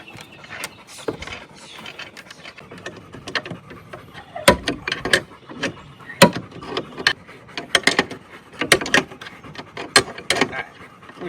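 Metal clanks and ratcheting clicks from hand tools working loose the pin on the pivot bolt of a 26-foot solid wood sailboat mast, irregular and close, with no talk.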